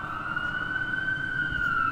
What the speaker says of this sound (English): So you can hear the sirens here in downtown LA.